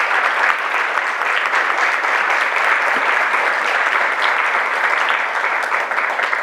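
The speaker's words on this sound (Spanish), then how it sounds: "Un aplauso para nuestras autoridades." Audience applause for the authorities at a social sciences and human rights panel, dense and loud, a continuous even roar of many hands clapping with no pauses.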